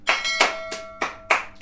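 Several sharp claps ring out in a kitchen, spaced unevenly across a couple of seconds, each with a bright metallic resonance that lingers like a struck pan.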